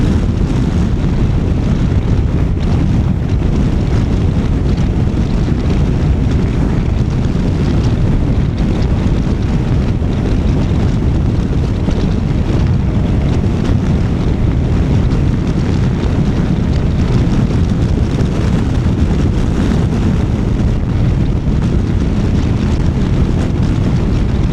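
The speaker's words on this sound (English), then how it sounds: "when there's an opening in the hedges, like a gate, a farm gate or something, you kind of feel that wind hit you" Heavy wind buffets a rider on a Honda NC750X motorcycle riding along hedge-lined country lanes, a loud, constant low roar with rough rumbling gusts filling the whole stretch.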